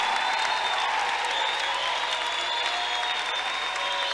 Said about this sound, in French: acclamez-moi le Seigneur, acclamez-moi le Seigneur.